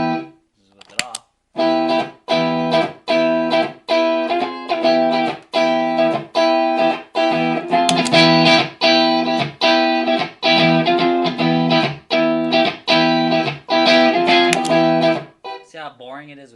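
An electric guitar played through effects with a BBE Sonic Maximizer switched off, strummed in a rhythmic series of chords with short gaps between, loud and close, then a brief sustained passage before stopping.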